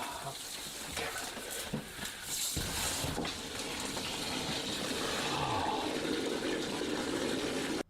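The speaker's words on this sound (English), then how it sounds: "I have the bucket here just to catch the bit of water that's draining, or that's going to drain from the line" Water drains from a cut household water line into a bucket, a few bumps and clatters at first, then a steady pressurised gush and splash that builds and fills the rest.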